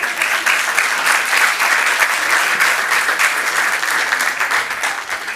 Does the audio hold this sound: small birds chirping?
no